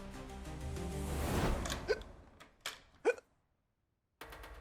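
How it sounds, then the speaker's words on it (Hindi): Several sharp, short hiccups break in one after another near the middle, loud and close, after a swelling background sound fades, followed by a brief silence. "अरे आपको तो हिचकी आ रही है"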